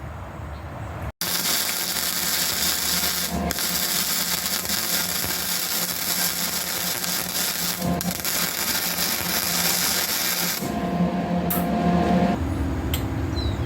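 Flux core wire welding on a rusty steel lawn mower cutting deck, a loud continuous crackling buzz that runs steadily for most of the stretch after a brief opening pause, with short breaks and shifts in tone near the end.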